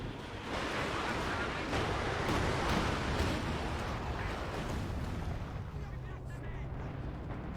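Artillery fires in Company of Heroes 2 with a sustained, loud rumbling roar of shots and blasts that swells and then eases slightly over several seconds, with a voice speaking over it.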